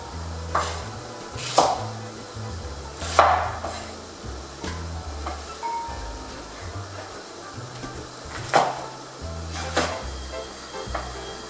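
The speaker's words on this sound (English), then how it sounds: "now I'll cut my onion for blending" A knife cuts an onion on a board for catfish pepper soup, with irregular, fairly close chops spread through the clip over light kitchen clatter.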